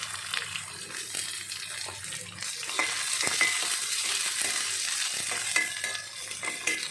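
Chopped onions sizzle and crackle in hot oil with cumin, curry leaves and crushed garlic, a steady frying hiss with occasional stirring scrapes, close by.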